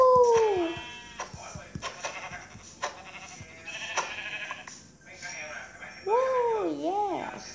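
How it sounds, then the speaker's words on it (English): Sheep bleat in Minecraft Pocket Edition survival play: one wavering bleat at the start and another near the end, clear and close, over game sounds, with a person talking excitedly between them. "Sheep! Sheepy friend!"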